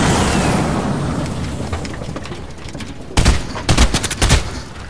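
Gunfire in the Fortnite video game: three or four sharp, loud bursts of rapid shots in the back half, over a steady din of game noise.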